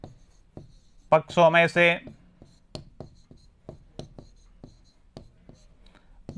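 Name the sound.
writing equation on board or paper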